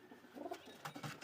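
Pigeons cooing at a rabbit and pigeon farm in Balochistan, Pakistan, with a few soft, low coos close by over quiet background.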